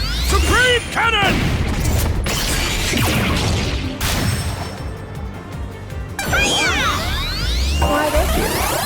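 Supreme Cannon attack in the video game Digimon Story Time Stranger, loud booming blasts and crashing impacts layered with swooping synthetic effects, several heavy hits across the span with no speech.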